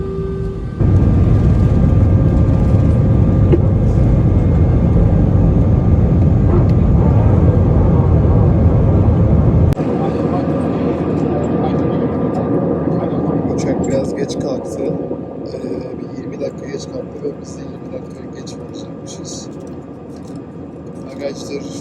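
Loud, steady engine roar inside a passenger airplane on the runway just before takeoff, with a dense low rumble that drops to a quieter, thinner hum partway through and some faint background voices.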